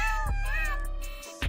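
A kitten gives one drawn-out, wavering meow close up, loud and clear, with no talk over it.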